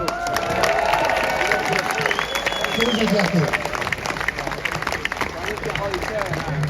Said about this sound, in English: a big round of applause for Ramada